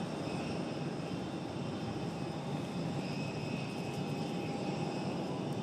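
A Southwest airliner takes off from Raleigh-Durham airport, its engines giving a steady, loud, broadband roar that holds level throughout with no talk over it.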